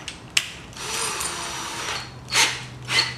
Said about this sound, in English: when you're drilling, make sure that the bars are flat